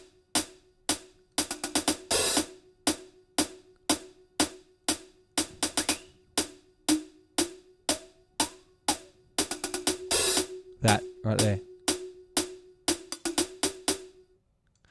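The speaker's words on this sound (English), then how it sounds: "That's like this bell ringing." A bright, ringing bell-like tone sits inside an isolated pop song stem, struck in a steady repeating pulse of sharp clicky hits about twice a second, with a busier cluster midway; a voice briefly speaks over it.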